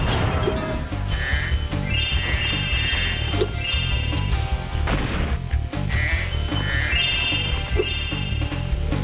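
Sheep bleat in Spyro 2: Ripto's Rage over steady game music, with several distinct bleats recurring through the scene at moderate loudness.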